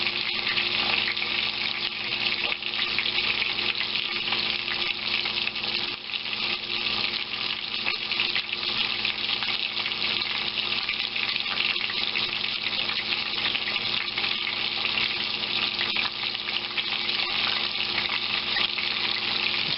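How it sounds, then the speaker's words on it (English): Breaded chicken Kiev fries in a pan, giving a steady, dense, rain-like sizzle that holds at an even level throughout with no talking. "The sizzle is just so primal almost."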